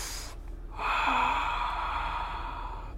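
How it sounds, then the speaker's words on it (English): A big, deep breath drawn in through the nose, a soft airy inhalation swelling after a brief pause and held steadily, close and alone. "take a nice, big, deep breath in"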